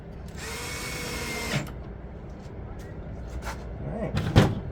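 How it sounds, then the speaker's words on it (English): A power drill drives screws into a MaxxAir RV roof fan in one short whirring burst, followed by faint clicks and knocks, with someone talking nearby. "I'm going to go ahead and put these screws in real quick."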